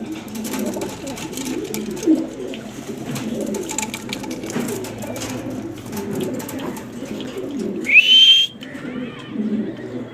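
Pigeons coo in low, repeated murmurs close by, with a sharp whistle-like chirp cutting in near the end.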